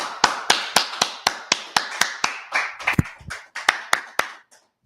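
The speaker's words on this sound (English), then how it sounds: "Clap it up." About seventeen sharp, loud claps ring out in a steady rhythm, evenly spaced and close, trailing off near the end with no voices.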